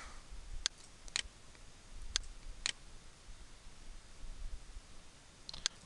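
Sharp, faint computer mouse clicks land a handful of times, spaced irregularly over a quiet room hum, with no talking.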